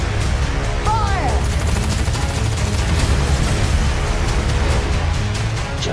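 Dense, continuous gunfire from a scene in the film Dredd, loud and close, with overlapping automatic bursts and booming impacts and no clear breaks.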